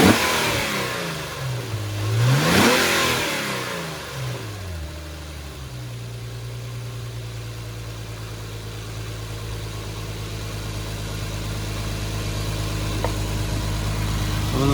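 Infiniti G35 engine revved once hard, climbing to a sharp roar and falling back before settling into a steady low idle drone, close by and without speech.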